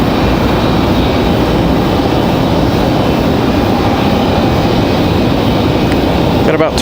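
An American Eagle regional airliner takes off at Raleigh-Durham airport, its engines a steady, loud roar that fills the whole stretch without letting up.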